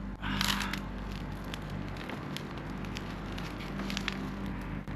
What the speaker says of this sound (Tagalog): ang sarap sa pakiramdam na may apoy tayo dito sa isla